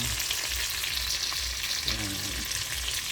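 Dried fish (tuyo or buwad) frying in a pan gives a steady, close crackling sizzle with soft low thumps underneath, continuous for the whole stretch.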